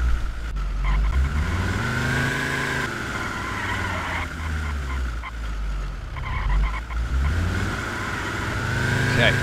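A car engine in the Arma 3 video game, droning and revving loudly as the vehicle drives across open ground, with pitch rising and falling through gear changes and a voice talking over it at times.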